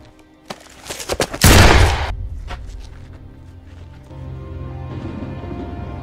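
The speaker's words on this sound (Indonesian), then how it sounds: "Tak diduga, mayor ini menembak mati bocil tersebut di hadapan mereka." Gunfire in a war film as a German major shoots a boy: a few scattered sharp cracks build into a loud burst of shots, then fade into a rumbling background.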